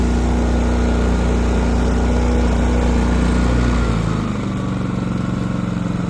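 A GENMAX portable generator idles steadily and loudly, then drops to a lower, quieter hum about four seconds in as it shifts into eco mode, running on alone without any voices.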